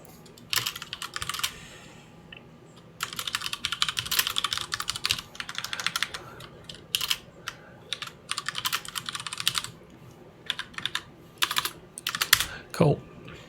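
Someone types on a computer keyboard up close, with quick bursts of clicky keystrokes broken by short pauses over about thirteen seconds, and a faint sliding tone near the end.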